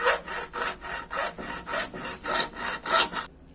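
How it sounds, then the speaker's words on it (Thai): A hacksaw cuts metal for a homemade pipe clamp in steady back-and-forth strokes, about seven even rasping passes, close by, then stops. "แล้วก็ใช้เลื่อยเหล็กตัดเลย"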